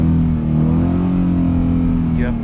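A Subaru BRZ pulls away from a complete stop on snow, its engine giving a steady loud low hum that rises slightly in pitch, heard close from inside the cabin with a voice speaking over it.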